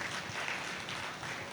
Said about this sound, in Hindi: 15-20 लोगों ने ताली बजाई है